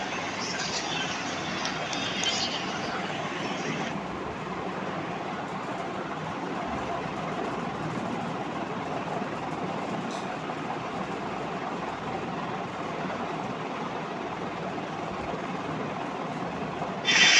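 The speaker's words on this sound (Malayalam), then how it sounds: "വണ്ടി നമ്മുടെ നേത്രാവതി എക്സ്പ്രസ് കൊല്ലം തിരുപ്പതിന് ഇപ്പോൾ ഓവർടേക്ക് ചെയ്യും" Netravati Express overtaking the Kollam-Tirupati train on Indian railways, a steady loud rumble of a passing train with continuous wheel and carriage noise throughout, no talking.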